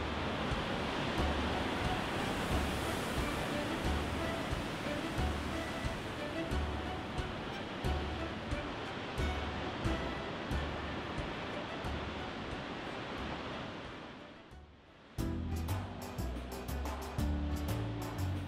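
Ocean waves break during a king tide below the cliffs of Shore Acres State Park on the Oregon coast, a steady, roaring wash of surf with wind that fades out near the end as music takes over.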